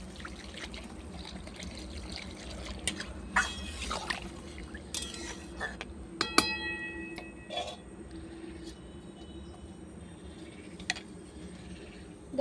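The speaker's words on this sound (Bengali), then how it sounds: "এবার পরিমাণ মতো পানি দেবো।" Water poured into a pot of spiced curry with fried lentil dumplings on a clay stove, a soft trickling pour with scattered clinks and small knocks, fairly quiet and without speech.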